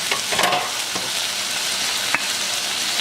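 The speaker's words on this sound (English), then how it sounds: "Now we put the beef inside the cooking pan and then start frying them again. Let's stir fry them a little bit." Beef stir-fries in a hot cooking pan with a dense, steady sizzle, broken by a few sharp scrapes and clicks of stirring.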